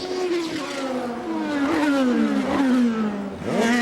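Formula 3000 race cars at the 2002 Belgian round accelerate through a chicane, their engines rising and falling in pitch as they pass close and loud, with gear changes and a fresh car surging in at the end.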